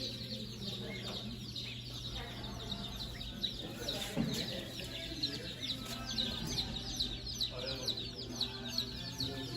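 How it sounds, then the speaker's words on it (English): Chickens clucking in a farmyard alongside ducks, soft scattered calls and chirps spread through steady outdoor background noise, with a voice talking now and then. "Look over there, a bunch of chickens."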